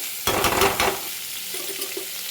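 Chopped onions hit a pan of hot oil in a brief loud burst of sizzling and stirring, which then fades to a quieter fry with a few faint scrapes.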